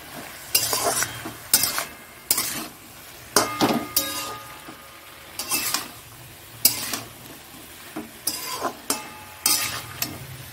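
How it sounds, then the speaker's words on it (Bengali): Cumin and coriander powder being stirred in a frying pan, loud, close bursts of spatula scraping and clinking against the pan in an irregular rhythm over a light sizzle, with no talking. "এটা ভালো করে এবার নাড়াচাড়া করি"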